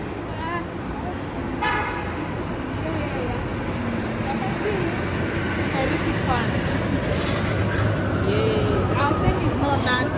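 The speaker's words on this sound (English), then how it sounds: "Ah, the train is coming. The train is coming." An electric train pulling into a station in Guangzhou, heard as a steady rumble with a horn-like toot near the start, while people talk nearby on a busy platform.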